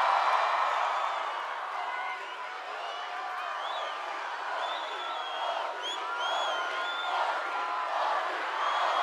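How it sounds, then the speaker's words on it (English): A large festival crowd at Lollapalooza Chile cheers and whoops loudly in a sustained roar, with scattered shouts and a voice rising briefly above it. "What a fucking great crowd."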